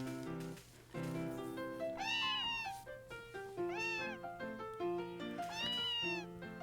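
Several game cat meows in the Harvest Moon farming game play one after another in a clear, tuned, synthetic voice, rising and falling in short calls over soft background game music, with no talking.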